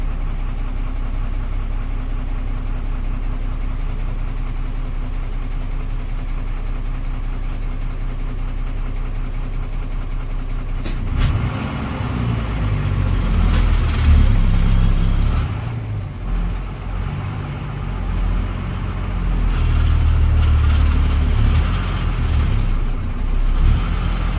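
A vehicle engine idles steadily on a hill road while being edged over to the side to park, then rumbles louder and rougher as it moves, close and continuous with no talk.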